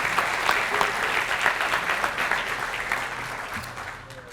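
Audience at a high school athletic awards ceremony breaking into a burst of applause, dense steady clapping in a hall that gradually fades out over a few seconds.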